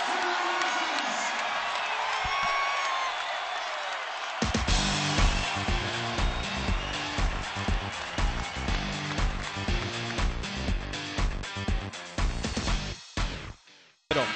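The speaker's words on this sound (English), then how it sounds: "We'll let the crowd take it to break." A college basketball arena crowd roars and cheers loudly at a lopsided game, with music and rhythmic chanting or clapping joining partway through.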